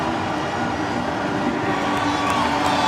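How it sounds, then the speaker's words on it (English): A cricket crowd roars and cheers after an Andre Russell six in a West Indies versus England match, a dense, sustained wall of stadium noise with whistles and shouts throughout. "Something for the fans to cheer about."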